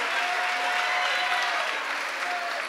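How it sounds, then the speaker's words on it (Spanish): Steady applause from an audience welcoming a guest named Samuel at the Gala de la Calabaza 2017, a dense, even wash of many hands clapping that holds at constant loudness for the whole stretch, with no voices on top. "Un aplauso para Samuel."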